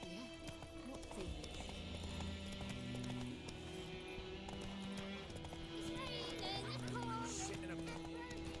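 A horse gallops in The Witcher 3 video game, its steady clip-clop hoofbeats running throughout under game music and ambience, with a faint whinny and a voice speaking over it.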